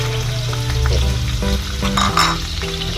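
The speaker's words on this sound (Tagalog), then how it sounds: "maglagay na tayong konting mantika para makapag-gisa na tayo" Garlic sizzles steadily in hot cooking oil in a pan for a seafood pancit canton, a loud close frying hiss with stirring scrapes and no voices.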